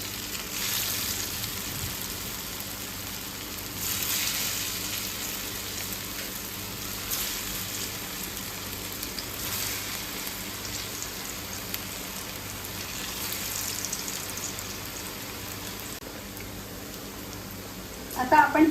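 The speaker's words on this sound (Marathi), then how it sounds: "आता आपण ही अळूवडी शॅलो फ्राय करतो." Taro leaf rolls (alu vadi) shallow frying in hot oil, a steady close crackling sizzle that runs throughout with small bursts of spattering.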